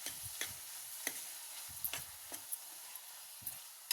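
Stirring of bottle gourd and fresh coconut curry in a pan, with soft scraping strokes and light clicks of a spoon coming every half second or so over a faint, steady sizzle, close and quiet.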